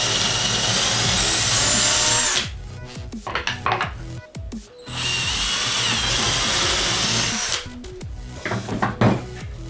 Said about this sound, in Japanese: これをこちらに当ててドリルを刺して開けると